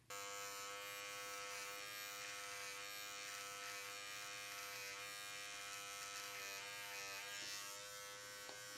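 An electric precision beard trimmer glides along a comb, giving a close, steady, high-pitched buzz that holds evenly throughout at low volume.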